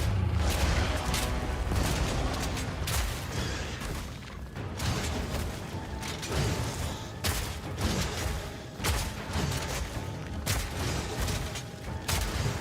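Grenades exploding in the video game Supervive, a dense barrage of repeated booms and sharp blasts amid chaotic gunfire and clatter, loud and close throughout.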